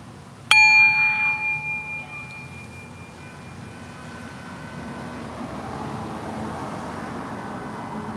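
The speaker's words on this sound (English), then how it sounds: "All right, on the bell." A single bell struck once during a guided meditation rings out with a clear metallic tone and fades slowly over several seconds above a quiet room hum.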